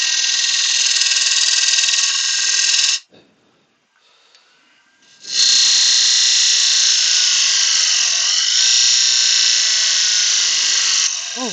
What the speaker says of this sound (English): There is definitely a problem with this lathe.